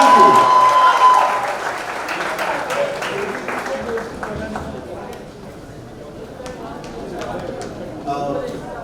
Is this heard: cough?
no